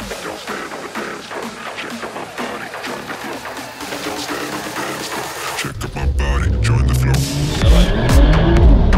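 VW Golf and BMW 340 cars at a race start, engines roaring up hard with rising revs and tyre noise, growing louder and closer toward the end, with excited talk over it.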